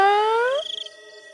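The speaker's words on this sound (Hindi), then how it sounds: "म्याऊ म्याऊ म्याऊ" A cartoon ghost cat gives a loud, close, drawn-out meow that rises then trails into a wavering, quavering tail, heard alone.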